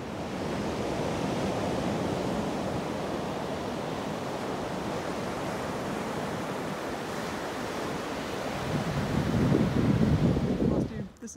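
Ocean waves wash on a Jersey Shore beach on a sunny day, a continuous broad roar of surf mixed with wind buffeting the microphone, swelling louder toward the end.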